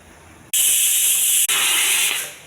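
Garlic boiling on the stove for millet moong dal pongal, an abrupt loud steamy hiss that starts sharply, breaks for an instant, then resumes and fades out, close and without speech.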